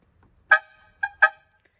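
A vegetable-seller style vehicle horn pulled by a cord gives three short, bright honks, one and then a quick pair, close and loud against silence.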